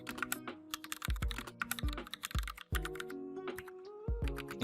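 Steady typing on a computer keyboard while entering HTML code, with quick, close key clicks in uneven runs and short pauses, heard alone.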